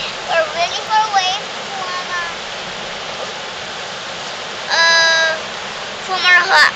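River water rushing in a steady broadband hiss by the Willamette River, with children's high voices speaking and calling over it at intervals.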